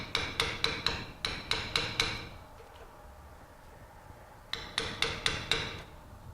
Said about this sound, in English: I'm going to use my chisel to just tap it into the slot to lock it in place.